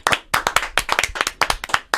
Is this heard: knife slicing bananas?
no